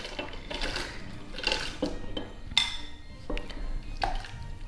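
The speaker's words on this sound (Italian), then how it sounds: "Amalgamiamo finché la cioccolata non si è completamente sciolta." Soft scraping and light clinks of a spoon stirring chocolate as it melts in a hot pot, slow irregular strokes, close and fairly quiet, no voices.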